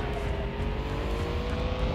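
A car racing in the Tuning Club Online video game, driven in its bomb mode without nitro, gives a steady, continuous engine drone with no pauses, filling the clip at an even level throughout.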